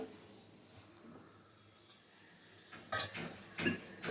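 Coriander vadi batter is mixed with gram flour in a bowl, giving faint, soft stirring and scraping, then a few louder clatters and thuds of the utensil against the bowl near the end.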